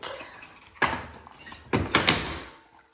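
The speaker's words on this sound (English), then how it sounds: "I close the door" A door is pushed shut with a couple of sharp knocks and a latching clack, followed by a second firmer thud, close by in a quiet room.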